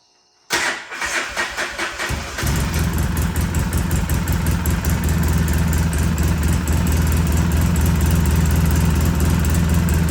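Polaris RZR side-by-side engine after an exhaust repair cranks briefly, fires up and settles into a loud, steady idle, close to the listener.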